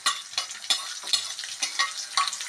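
Onion, green chilies, ginger, garlic, curry leaves and spices sauté in coconut oil, a close, fairly loud hiss broken by regular stirring strokes roughly every half second, heard alone.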